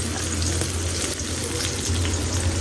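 Sliced onion sizzling in hot oil in a home kitchen pan, a steady dense crackling hiss that holds evenly at close range with no voice over it.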